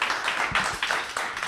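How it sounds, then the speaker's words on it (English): Brief burst of audience clapping from visiting Trenton students in a lab studio, with a few quick, loud rounds of applause close by and a faint voice underneath. "They're clapping on demand."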